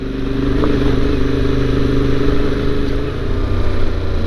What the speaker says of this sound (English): It's a bigger bike and it feels it.